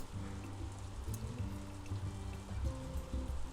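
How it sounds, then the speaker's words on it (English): Steady rain from the farming game Story of Seasons, a continuous soft patter running under looping game music throughout. "Sounds like it's raining"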